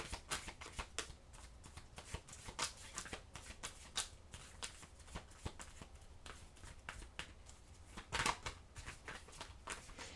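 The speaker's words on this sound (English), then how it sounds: "Now let me get your oracle card here so I can get you out of here." Oracle cards shuffled by hand, producing quiet, rapid riffling and flicking bursts that continue steadily for about ten seconds, close and soft with no talking.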